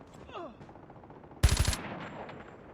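Gunfire in a video game shooter on a sawmill multiplayer map: one sharp, loud burst of rapid automatic shots rings out midway, preceded by faint background clatter and followed by a fading tail.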